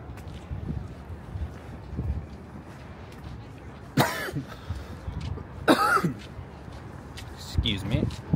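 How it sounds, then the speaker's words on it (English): Coughing fits from a person who drank coffee too fast while walking along a city street, two sharp loud bursts around the middle and a smaller cough near the end, over outdoor traffic and wind noise. "Sometimes I drink my coffee too fast and it makes me cough."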